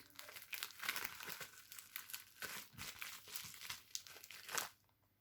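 Plastic foil wrapping around a pair of earrings being handled and unwrapped up close, with repeated crinkling and rustling bursts that stop abruptly near the end.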